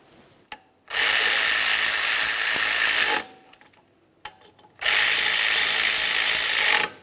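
Power ratchet snugging two 10mm headed bolts on a 2003-2007 Honda Accord front wheel hub assembly, two loud sustained whirring bursts of about two seconds each, close up, separated by a quiet gap with small clicks.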